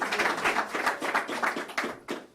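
Audience applause after a speaker's introduction at a New York governor's event, a short burst of dense clapping that stays loud throughout before thinning at the end.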